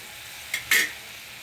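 Ivy gourd and potato curry being stirred in a pan, two quick scraping, sizzling strokes close by, the second louder and longer, over a quiet background.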